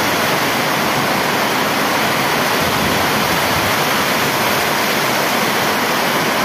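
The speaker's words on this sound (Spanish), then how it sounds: "fuerte aguacero azota a la ciudad de Cali" A heavy rain downpour lashes Cali, Colombia, around the Siloé neighborhood: a dense, loud, unbroken roar of pouring water with no voices.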